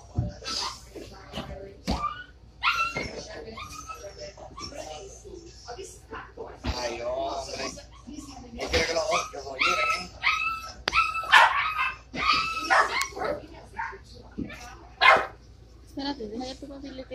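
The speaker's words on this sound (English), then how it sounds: "Can we get a different dog?" Dogs in a dog store bark, yip and whimper repeatedly, some close and loud, others fainter, with people chatting throughout in Spanish and English.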